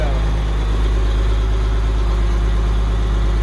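A Case 1570 tractor engine idles steadily at close range, a low, continuous rumble with a throbbing mechanical beat.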